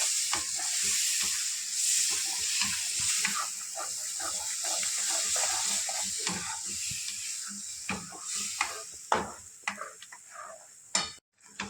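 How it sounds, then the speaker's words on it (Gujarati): Mixed vegetable sabji gravy stirred in a pan, with a steady bubbling sizzle and soft repeated scraping of the spoon, continuing closely and evenly before a few sharper clinks near the end. "બરાબર રીતે આપણે એને હલાવીશું."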